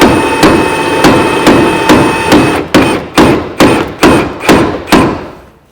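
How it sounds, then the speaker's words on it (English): Repeated hammer strikes on a Vauxhall Corsa C inner tie rod, loud and close, about a dozen sharp metallic blows in a steady rhythm, the later ones more spaced with ringing decay. "So you get a hammer."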